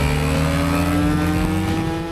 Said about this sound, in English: My Aprilia is what I would call the perfect first bike for anyone to learn wheelies on.